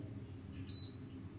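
An automatic hair curler gives one short, high, thin beep, moderately clear above a low steady background hum, with no talking.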